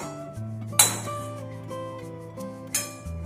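A metal spoon clinks twice against a kadai (wok) as a spoonful of ghee goes in, two sharp bright taps over a low steady kitchen hum.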